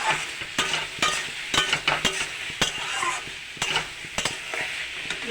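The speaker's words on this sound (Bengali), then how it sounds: "আগের থেকে ভেজে যাচ্ছে আলুগুলো" Potatoes fry in a pan with salt and turmeric, a steady sizzle under repeated sharp scrapes and clinks of a stirring spoon against the metal, close up with no talking.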